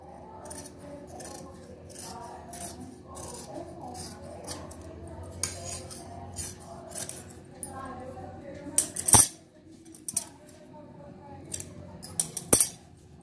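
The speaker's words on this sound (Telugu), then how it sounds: "హ్యాండ్ కట్ చేసుకుందాం." Scissors snip through the sleeve piece of blouse fabric for a lehenga blouse, a couple of sharp metallic cuts standing out late over a quiet room hum with a faint voice in the background.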